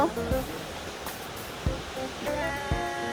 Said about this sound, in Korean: 폭포 시원하게 떨어지고 있슈